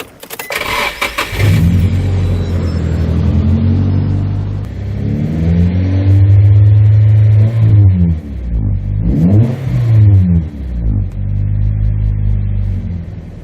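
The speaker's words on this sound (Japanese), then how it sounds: "マフラー音を聞いていきたいと思います" A Nissan Silvia S15 with a homemade left-and-right dual-exit muffler cranks and fires up, then settles into a deep exhaust burble with several loud revs rising and falling.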